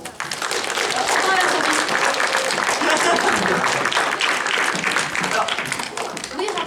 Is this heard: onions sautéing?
no